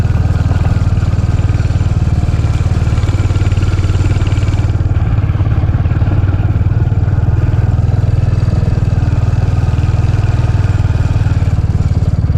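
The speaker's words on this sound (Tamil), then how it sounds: "நம்மளோட வண்டி சவுண்டு மட்டும் தான் கேட்குது" Steady, loud engine drone of a vehicle being ridden along a quiet forest hill road past coffee plantations, a continuous low rumble with no other sounds around it.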